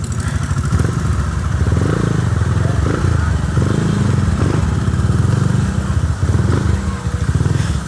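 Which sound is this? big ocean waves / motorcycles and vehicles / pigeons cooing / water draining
motorcycles and vehicles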